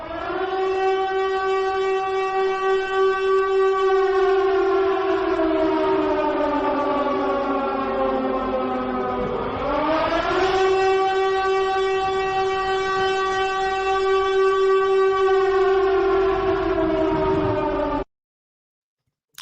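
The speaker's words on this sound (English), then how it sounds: "Sirens in the chat, people." A loud wailing siren holds a steady tone, dips and sweeps back up, then cuts off abruptly into silence.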